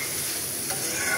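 Prawns fried and stirred with spice paste in a pan make a dense, steady sizzle, close and continuous for a brief moment.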